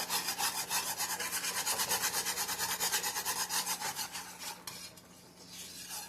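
Spoon stirring meatball gravy in a pan, a quiet, steady rhythmic scraping and rubbing repeated in even strokes, fading somewhat toward the end.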